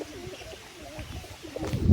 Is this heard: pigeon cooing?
yes